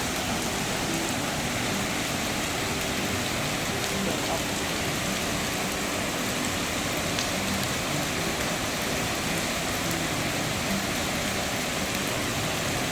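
A waterfall at Hidden Valley Spring in Laguna gives a steady, loud, unbroken rush of falling water that sounds like heavy rain and fills the whole stretch.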